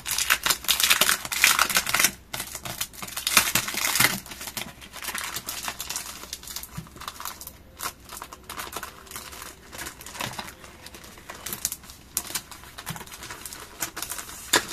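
A scrapbooking card kit package is opened by hand, giving a steady close crinkling and rustling of packaging with irregular bursts and no talk.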